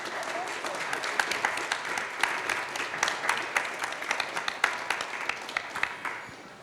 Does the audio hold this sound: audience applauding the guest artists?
yes